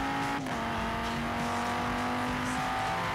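An Audi race car in Forza Horizon 3 drives a track with a steady, sustained engine drone at a constant pitch, loud and close, with no talking.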